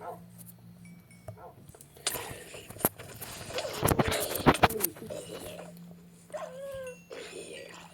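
Minecraft wolves yelp and whine amid scattered game clatter and hits during a zombie attack on a village, with a short, high, whining cry near the end.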